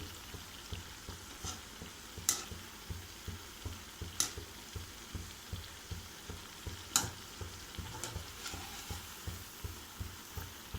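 Thin-sliced raw plantain fritters (bajji) frying in oil, a soft, continuous sizzle and bubbling at low level, with a few faint clinks from the pan.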